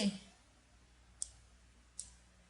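Two crisp computer mouse clicks while selecting objects in drawing software, about a second apart, close and fairly quiet against near silence.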